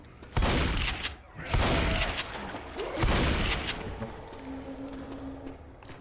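Rapid bursts of Uzi gunfire in the video game Left 4 Dead crackle in quick succession, loud and close, with short pauses between volleys.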